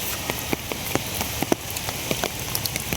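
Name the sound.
light rain falling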